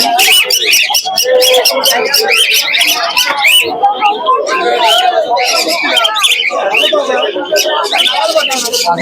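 Constant chatter of many birds and pigeons at the Krishnanagar pigeon market, sharp chirps and warbling calls piling on top of each other at close range, with a low hum of people talking beneath.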